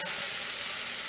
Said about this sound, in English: Barbecue steak.